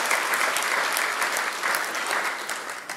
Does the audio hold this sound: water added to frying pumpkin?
no